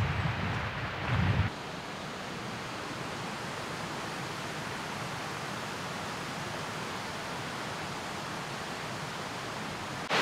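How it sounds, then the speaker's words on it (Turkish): Gürlek waterfall on a creek among red pines rushes in a steady, loud, unbroken roar of water that fills the whole stretch, with a brief louder burst at the start. "şimdi Gürlek Şelalesi'nin olduğu yerdeyiz"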